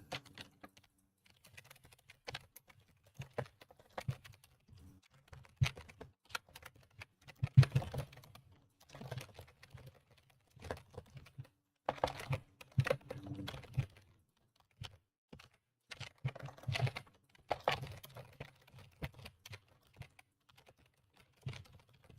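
Irregular flurries of keystrokes on a computer keyboard, with pauses between runs of quick clicks, close and fairly quiet, without speech.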